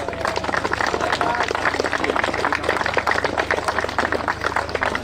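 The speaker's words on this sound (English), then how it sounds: "Big round of applause" Applause from a small crowd at a karting series prize-giving at Glan Y Gors, a steady dense patter of clapping that carries through the whole stretch, with a low rumble underneath and occasional voices mixed in.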